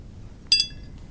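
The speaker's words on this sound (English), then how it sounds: "whenever we strike a hard surface with a metal, it gives a ringing sound like this." A single bright metallic clink as metal strikes a hard surface, a short ringing ping that fades quickly, heard alone against a quiet background.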